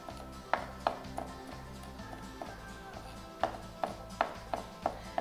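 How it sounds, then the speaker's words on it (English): Knife finely chopping garlic on a cutting board, rocking back and forth: a steady run of sharp, close taps in bursts, with a brief pause midway, no talking. "So what I'm doing is I'm finely chopping the garlic."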